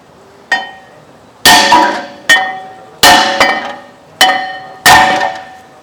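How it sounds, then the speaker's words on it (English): Six loud, close hammer blows ring out on a brake rotor of a 2023 Audi Q7 at an uneven pace, each strike clanging and then fading quickly. "If you can't, what we're going to do next is we're going to hammer it out."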